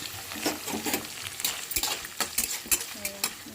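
Onions and curry leaves fry in a pan, a steady low sizzle broken by sharp clinks and scrapes of a spatula stirring against the metal, close and moderately loud with no talking.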